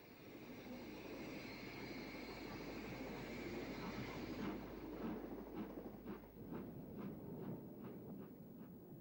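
An ex-Southern Electric semi-fast electric train runs past near Wimbledon Yard, a steady low rumble and rush building, then a regular series of wheel clicks over rail joints as the carriages pass.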